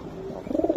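A racing pigeon gives a short, soft coo, a brief low rolling call lasting under a second, close by and alone.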